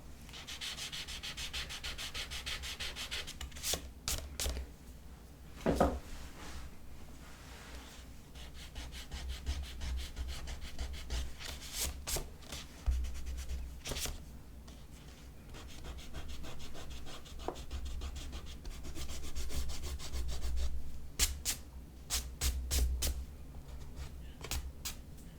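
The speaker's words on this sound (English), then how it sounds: "I have some pencil markings here that I can erase." An eraser rubs out pencil markings on watercolor paper in a sketchbook, short scratchy strokes in irregular bursts with brief pauses, close and soft, with no talking.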